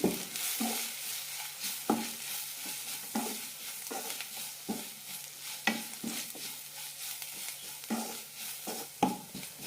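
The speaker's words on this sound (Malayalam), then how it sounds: "നന്നായി വഴറ്റാം" Chicken curry masala with pepper, garam masala, fennel, turmeric and roasted coriander powder sautéing in a pan for chicken mappas, a steady sizzle broken by repeated scraping stirs of a spoon, roughly every second, close and alone.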